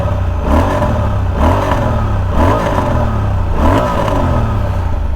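A Honda 750 Transalp motorcycle with its stock exhaust, revved in four short repeated blips, each rising and falling back to a rumbling idle, close and loud.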